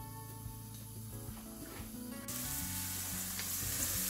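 Chopped red onion frying and browning in a pan for a prawn and crab dish, a steady close sizzle with stirring scrapes that grows louder and brighter partway through.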